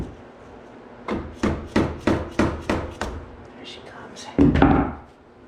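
A hammer gives quick, evenly spaced taps to a stuck part on a Honda Trail 90 during a refresh, about seven close knocks followed by a heavier thunk after a short pause.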